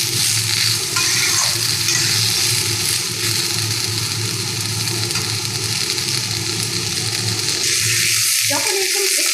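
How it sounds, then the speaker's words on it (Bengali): Pointed gourd pieces fry in oil in a pan and are stirred steadily, giving a loud, continuous sizzle with scraping stir strokes throughout, close up. "একটু সময় নিয়ে ভাজা করতে হবে, নাহলে পটলটা সাদা সাদা থেকে যাবে।"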